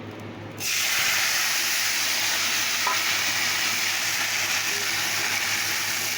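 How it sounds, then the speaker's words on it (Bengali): Food frying in a pan on a home stove gives a steady, loud hiss-like sizzle that starts abruptly after a brief quiet moment and runs on evenly, with a faint clink partway through. "চলো ভাজাটা দিয়ে দিই"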